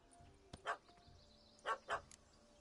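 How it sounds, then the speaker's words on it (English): Small dog yapping in The Witcher 3 video game: three short, sharp yaps, one alone and then two close together, faint and set apart by quiet gaps. "Don't know how to handle yappy little dogs?"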